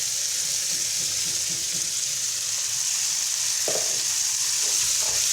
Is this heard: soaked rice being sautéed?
yes